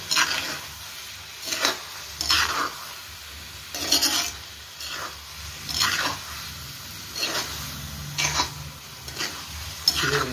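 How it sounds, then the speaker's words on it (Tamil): Chicken coated in dry masala sizzles in a pan as a spatula stirs and scrapes it in repeated bursts, the clinks and scrapes coming at uneven intervals over a steady low fry, close up and without speech. "போட்டுக்க ட்ரை மசாலா சிக்கனில் ஒரு 5 நிமிஷம் பிடிச்சி வேகணும்."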